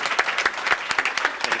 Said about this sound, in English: So please give a round of applause to the Laurelton Neighborhood Association.